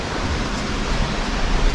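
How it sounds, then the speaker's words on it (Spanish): Peguche waterfall in a protected forest near Otavalo, Ecuador, a steady dense rushing roar heard from nearby, with no talking. "A la cascada de Peguche."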